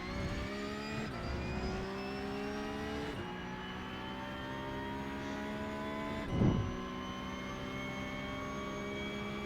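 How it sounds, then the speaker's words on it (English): A Porsche 911 Cup (992.2) race car engine howls through a chicane at Imola, revs dropping and climbing across several gear changes with a brief thump near the end, loud and steady throughout, no talk. "I'm aware the car's slipping, so I'm just going to make it through the chicane here nice and smooth."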